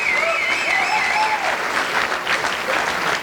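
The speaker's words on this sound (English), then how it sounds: "could you please give a good round of applause to Shannon's parents for putting together a fabulous weekend" A room full of wedding guests gives Shannon's parents a steady round of applause, dense continuous clapping with a few whistles and whoops riding over it.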